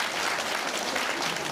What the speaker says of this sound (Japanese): みんな雄大に応援の拍手してやってくれ。